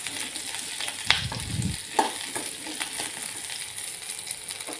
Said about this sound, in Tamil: இதையும் நல்லா வதக்கிக்கோங்க.